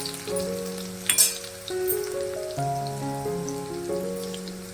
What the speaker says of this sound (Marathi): कांदा लाल करून घ्यायचा आहे